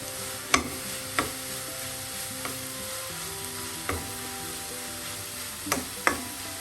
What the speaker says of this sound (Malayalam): ഇനി നമുക്ക് നല്ലതുപോലെ ഒന്ന് ഇളക്കിയിട്ട് തുറന്ന് വെച്ച് വേവിക്കാം.